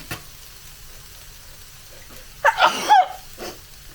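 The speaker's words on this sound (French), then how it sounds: "J'éternue." A single sneeze bursts out in a home kitchen while seasoning food with salt and pepper, a short loud explosive burst with a faint follow-up, over a quiet background of cooking.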